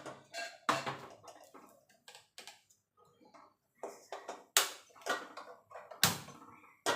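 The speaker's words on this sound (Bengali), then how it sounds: "গ্যাস ধরিয়ে কড়াই বসিয়ে দিলাম।" A gas stove is lit and a kadai wok is set on the burner in a home kitchen while moong dal is being cooked, giving close, sharp clicks and metallic clanks scattered in an irregular rhythm.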